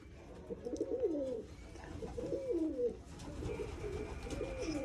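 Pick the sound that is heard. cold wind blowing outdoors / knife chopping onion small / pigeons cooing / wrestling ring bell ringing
pigeons cooing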